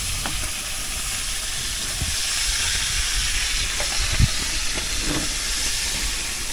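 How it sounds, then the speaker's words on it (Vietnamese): Fish frying in a pan with oil, a steady broadband sizzle and hiss running throughout at close range, with a few faint clinks and stirring sounds and no talking. "đang rán cá gần xong rồi"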